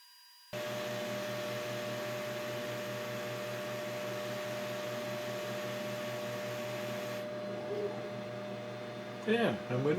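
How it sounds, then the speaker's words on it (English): Extraction fan on a laser engraver cutting engraved wooden flowers drones as a steady hum, cutting in abruptly and running continuously at moderate level, with a brief shift near the end. "we've got a nice draft created by the extraction fan"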